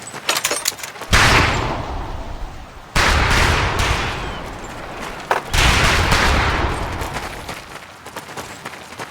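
Rifle fire at a military shooting range in the video game Medal of Honor Pacific Assault: three long, loud bursts of overlapping shots with echoing tails, separated by brief gaps.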